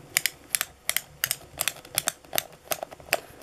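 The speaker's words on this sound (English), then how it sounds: "it's actually quite a noisy shoe when you start turning this disc to tighten them" A plastic lacing disc on a vintage sneaker is turned to tighten the laces, giving a quick, uneven run of close, crisp ratcheting clicks.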